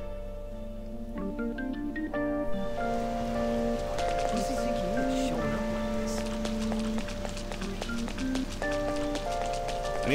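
Steady rain pattering on a surface throughout in the video game Persona 5, with layered background music tones and occasional faint voices.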